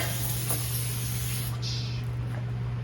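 A short hiss of aerosol brake cleaner sprayed close by on the rear brakes of a Buick Regal 2.0L turbo, lasting about a second and a half, followed by quieter hissing over a low steady hum.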